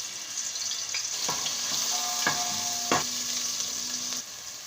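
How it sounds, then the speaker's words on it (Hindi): Ginger-garlic paste dropped into hot oil gives a steady, close sizzle and frying crackle, with a few clinks of utensils and no speech over it. "ऑयल हमारा गर्म हो चुका है। इसके अंदर 1 टेबल स्पून लहसुन अदरक का पेस्ट शामिल कर देंगे।"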